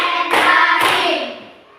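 A classroom clapping game in which two sharp, loud hand claps ring out about half a second apart, then fade into a ringing room tail, with no talk over them.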